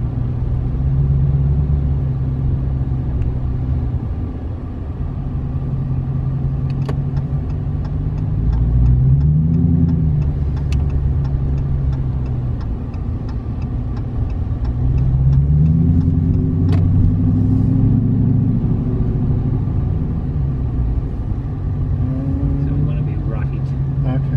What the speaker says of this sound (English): So we're gonna try and just drive through the parking lot.